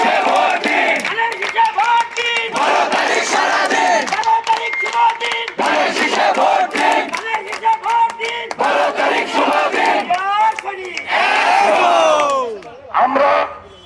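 Political rally procession in Dhaka with a dense crowd chanting slogans in loud, rhythmic call-and-response bursts, voices swelling and dropping in repeated waves, with shouting and bellowed lines rising near the end.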